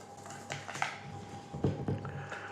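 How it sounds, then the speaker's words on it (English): Dry chocolate pudding mix of cocoa powder and salt being whisked in a bowl, with soft scattered scrapes and light taps of the whisk against the sides, fairly quiet and uneven. "now we want to whisk all this together and get it into a nice uniform sort of mix"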